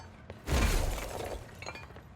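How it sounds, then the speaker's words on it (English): Glass shatters in the video game Control as the player dashes through a pane: a sudden loud crash with a burst of breaking shards, then scattered tinkling fading over the next second or so. "Yeah, you can dash through glass."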